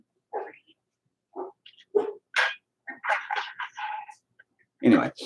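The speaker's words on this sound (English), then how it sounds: "shut up, dogs." Dogs barking in short separate bursts, fairly close and loud, with a person speaking in between.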